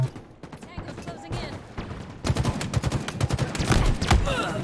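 Gunfire in a multiplayer shooter video game, sparse shots at first then rapid bursts of automatic fire, loud and close, with a voice talking under the shooting.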